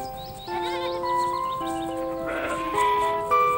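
Sheep bleating, several wavering calls one after another, with a brighter overlapping bleat near the end, moderately loud and clear with no talking.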